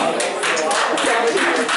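People clapping in the audience at a tense city council meeting, a scattered burst of hand claps blended with crowd noise and nearby talk.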